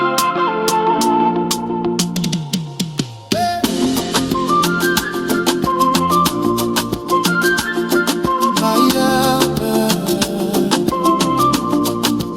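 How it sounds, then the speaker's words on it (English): AI-generated song played back, a dense full-band mix with bright plucked or keyed melodic lines and steady rhythmic hits, loud and continuous, with a brief dip and transition a few seconds in before the music resumes at full level. "Let me share my audio so that you can hear the song we just created right now"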